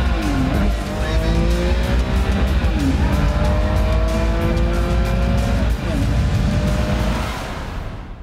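Turbocharged Ferrari F40 and 288 GTO race on a track, engines loud and close with rising and falling revs through gear changes and brief tire squeal, under constant roaring noise.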